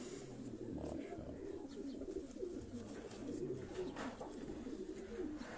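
Domestic pigeons cooing softly in a loft, low repeated throaty coos under faint background noise and a little distant talk.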